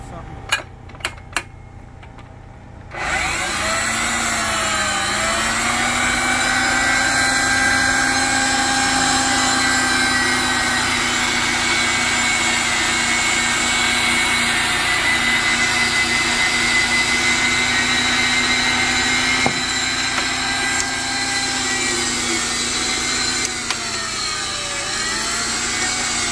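A Ridgid 300 pipe machine starts up after a few faint clicks and runs steadily while threading pipe, a loud continuous motor drone with a slight rise and fall in pitch, lasting over twenty seconds.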